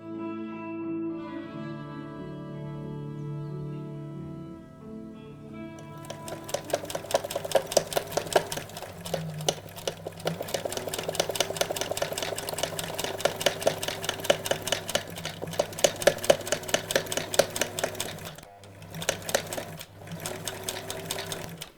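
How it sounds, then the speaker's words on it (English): A sewing machine stitches nails onto fabric, its needle hammering out a fast, steady mechanical rattle that starts after a quieter, tonal passage and runs loud and close for about fifteen seconds, with brief pauses near the end. "I will sew on nails all over the fabric"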